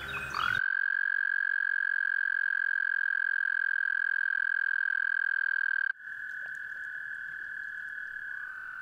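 An American toad gives a long, loud, steady trill close by, holding one unbroken pitch for several seconds before carrying on a little fainter over a noisy background.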